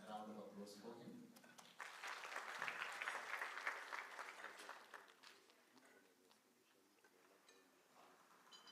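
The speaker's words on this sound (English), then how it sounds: "A round of applause for him." Audience applause for Elias Gekundi of the Kenya Counselling and Psychology Association at a mental wellness and counselling conference, a broad wash of clapping that swells and then thins out, with some voices underneath.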